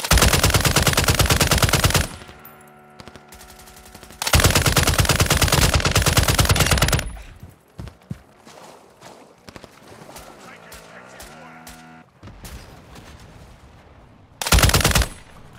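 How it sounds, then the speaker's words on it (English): Heavy bursts of machine-gun fire in a Call of Duty DMZ match on PS5, loud sustained volleys around two short pauses, with quieter movement and gear noise between and a final short burst near the end. "You are taking effective fire."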